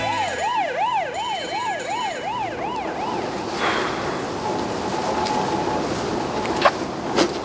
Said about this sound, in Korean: 앰뷸런스.